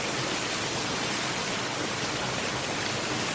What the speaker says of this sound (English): take this bucket and fill up that pipe with water to start the siphon